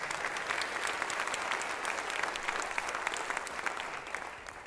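A college convocation crowd gives the chancellor a round of applause, steady crisp clapping from many hands that carries evenly for several seconds and tapers slightly near the end.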